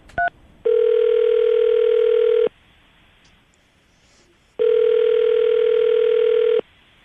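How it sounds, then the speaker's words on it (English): A short burst of touch-tone dialing, then two long, loud, steady telephone ringback tones about two seconds each with a silent pause between, heard alone with no talking. "We're gonna call him right now and see if we can get him on the phone"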